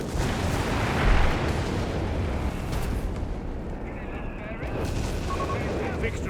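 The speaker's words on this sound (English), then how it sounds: "And we got the howitzer joining in the fun now." Howitzer artillery fire rumbles through a Company of Heroes 3 battle, a heavy boom standing out early amid continuous dense blasts and explosions, with a commentator talking over the din.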